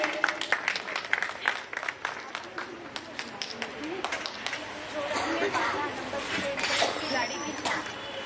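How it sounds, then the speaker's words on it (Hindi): Scattered clapping from a seated audience at a Brahma Kumaris self-empowerment gathering in Bunkar Colony, Delhi, uneven and fairly faint, with chatter and a few clinks of teacups mixed in. "जिनके हाथ फ्री हो, प्याला चाय का हाथ में ना हो, ताली बजा सकते हैं।"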